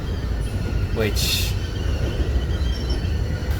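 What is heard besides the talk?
freight train car squealing with air brakes on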